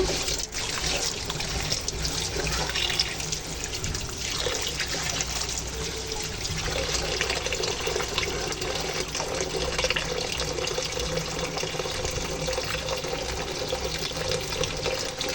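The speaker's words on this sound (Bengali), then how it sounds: "এখানে আমি চালগুলো ভালো করে ধুয়ে নিতেছি" Rice is washed under a running kitchen tap, and the water gives a continuous, even splashing rush that stays at one level from start to finish. No one speaks.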